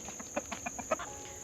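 Chickens cluck softly nearby in a zone 8 garden, a handful of short, scattered calls over a faint steady background hum.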